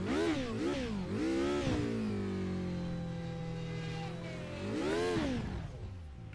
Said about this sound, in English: get some car noise up. These cars just absolutely sound sweet.